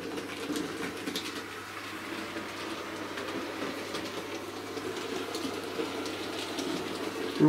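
A model Battle of Britain class steam locomotive runs steadily on track into a tight bend, a continuous low rumble with faint clicking, moderately loud and with no voices.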